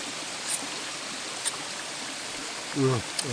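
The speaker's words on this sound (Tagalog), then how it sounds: "Bukal." Natural spring water flows in a steady, soft rush close by, with a brief voice breaking in near the end.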